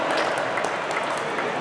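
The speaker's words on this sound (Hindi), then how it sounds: "गाइस, तालियां थोड़ी जोर से होंगी तो और मजा आएगा" A cinema audience claps at a film promotion event, giving a steady wash of applause throughout, loud and close.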